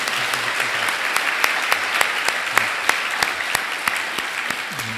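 Church congregation applauding after a prayer during a Korean service, loud continuous clapping with regular sharp claps close by and a faint low hum underneath.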